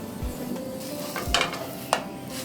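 Folded rajma cheese paratha cooking on a dry pan without oil, giving a soft, low sizzle with a few light scraping and clinking touches from a utensil.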